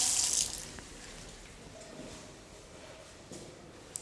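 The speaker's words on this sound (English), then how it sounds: "The water is running in the tap." Water runs from a tap in a boys' washroom at a school, a steady splashing hiss heard alone, louder at first and then settling into an even flow.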